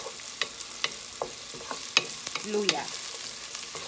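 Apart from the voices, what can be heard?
garlic and onion sautéing in a pan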